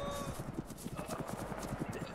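Horse hooves gallop in the video game ArmA 3, a steady rapid clip-clop rhythm of repeated thuds, close and continuous across the short stretch, with muffled background noise beneath.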